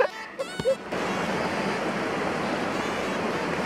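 A waterfall's rushing water pours in a steady, broad roar after a few brief knocks and handling noises at the start, continuous and fairly close throughout.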